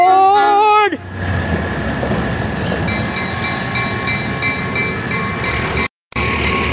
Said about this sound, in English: If the steam engine's coming.